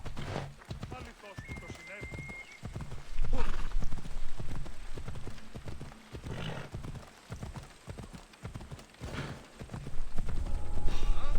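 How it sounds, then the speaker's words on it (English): Steady clip-clop of horse hooves at a gallop in the ancient Greek world of Assassin's Creed Odyssey, rhythmic and fairly close, with a horse whinnying and someone talking over it. "You take this horse? Off we go now."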